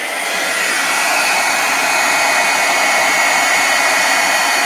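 Heat embossing tool melting gold embossing powder on a holiday ornament card, a loud steady fan-driven whoosh close by, running continuously without a break.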